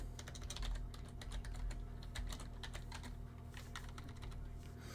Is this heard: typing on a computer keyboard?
yes